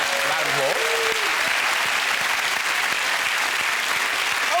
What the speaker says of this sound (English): I think that round of applause.